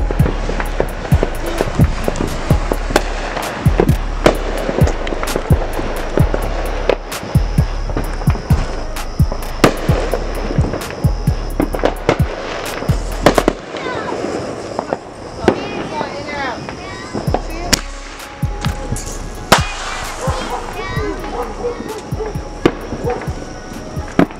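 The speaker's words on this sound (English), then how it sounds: "gunshots." Gunshots crack sharply at a gender reveal, loud repeated reports coming in uneven bursts over about twenty seconds, with scattered popping and outdoor background noise.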